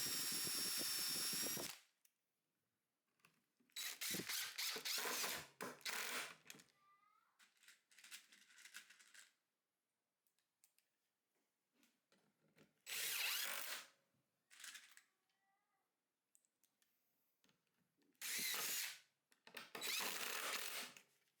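A power drill drives screws into a plywood back fence of a table saw sled, running in several separate bursts of a second or two, with quiet pauses between them.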